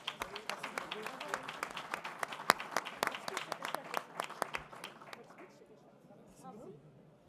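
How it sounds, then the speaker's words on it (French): Applause from an audience at a student competition award ceremony, many hands clapping in distinct sharp bursts at a steady pace, then thinning and fading out near the end as a voice begins to speak. "je crois qu'on peut encore les applaudir"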